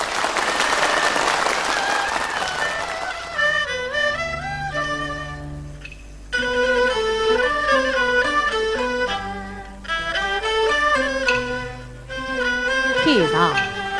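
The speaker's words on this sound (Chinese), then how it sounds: "掌声欢迎。" A concert audience at a Yue opera gala claps loudly for a performer at first. Orchestral accompaniment and operatic singing then rise and take over as the applause fades.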